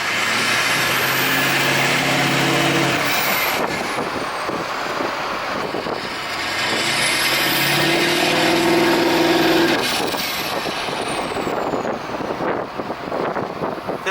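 Straight-piped Ford 6.0 Powerstroke diesel pickup idling and revving beside a wall, its loud, raw exhaust rumble echoing back, rising and falling in long swells over steady wind buffeting the microphone.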